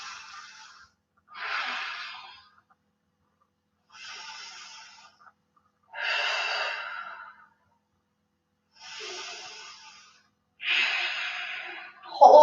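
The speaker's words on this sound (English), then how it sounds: "Taking a few deep breaths here to start." Slow, deep yoga breaths in a steady rhythm: six long, close inhale and exhale cycles, each about a second long, with quiet pauses between them and no talking.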